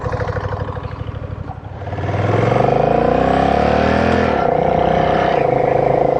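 Honda Rebel 1100 DCT motorcycle pulling away: a pulsing idle-like putter, then a loud, rising engine note that climbs, drops briefly as it shifts itself automatically, and climbs again, close and continuous without talk.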